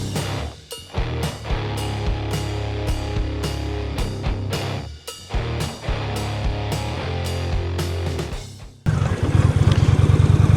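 A 2025 Indian Chieftain touring motorcycle with the PowerPlus engine roars steadily while riding, with rhythmic pulses from gear changes, then a harsher close rumble near the end.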